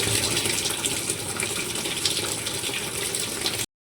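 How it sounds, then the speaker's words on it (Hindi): Water runs from a household tap in a steady, close gushing stream, testing whether a clog in a washing machine will clear. It stays even for several seconds, then stops abruptly, and no one speaks. "पानी चलाकर देखती हूँ 2-5 मिनट, अगर होगा तो ऊपर आ जाएगा"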